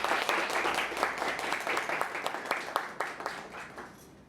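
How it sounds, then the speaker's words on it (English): A Toastmasters meeting audience claps for a speaker, steady dense applause with individual claps audible, fading slightly toward the end, no talking over it. "please welcome TM Gitanjali with a big round of applause"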